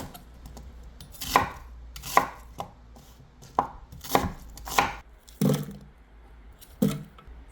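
A knife chops soaked dried chili peppers on a cutting board for sweet potato stem kimchi, about nine sharp, close thuds spaced irregularly with short quiet gaps between them.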